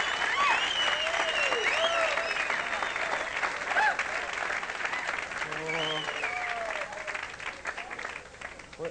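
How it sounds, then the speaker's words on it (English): Audience applause at a 1983 comedy magic show rings out for a volunteer, a dense, steady clatter of many hands that fills the room and then thins toward the end. "Give him a big round of applause, please."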